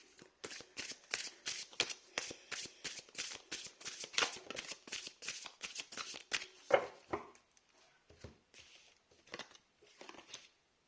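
Tarot cards are shuffled by hand in a quick run of crisp riffling snaps, then the rhythm breaks into a few scattered, softer card flicks and taps.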